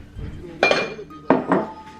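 Porridge going into a pan in a home kitchen, marked by a few sharp metallic clinks of a utensil against the pan, separated by short quiet gaps.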